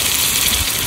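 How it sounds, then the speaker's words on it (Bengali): Water poured into a pan of braising duck meat, a continuous loud gushing splash lasting about a second, close and alone. "ভালো করে কষিয়ে নিয়েছি, এবার জল দিয়ে দেবো।"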